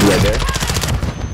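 A burst of loud gunshots in a battle royale shooter, several quick close shots in a rapid string that fade out over about a second, with no talk.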